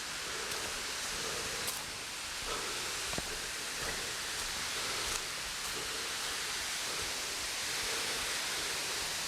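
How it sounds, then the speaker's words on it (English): A waterfall along a mountain hiking trail on Mt Ascutney, Vermont, pours as a steady, even hiss of falling water heard from a short distance, unbroken and moderately quiet. "So this is the first waterfall that I've seen so far on the trail."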